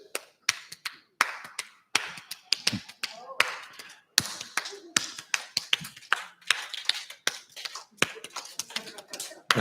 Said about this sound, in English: And the way she clapped was like this.